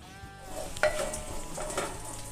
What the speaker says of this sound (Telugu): నిలువుగా కట్ చేసిన పచ్చిమిర్చి వేసుకోవాలి.